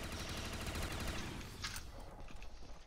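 Rapid burst of video-game gunfire from a KG M21 rifle, dense close shots in quick succession, then a sharp crack and fading echoing shots.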